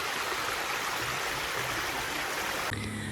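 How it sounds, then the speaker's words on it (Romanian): A forest stream flows in the Seychelles, a loud, close, continuous rushing of water that holds steady throughout without voices. "Ne răcorim în pârâu."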